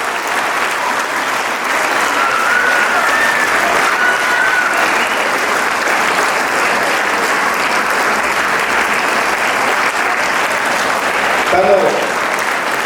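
A large audience at a junior college farewell celebration gives loud, sustained applause, a dense continuous roar of clapping from nearby, with some voices mixed in.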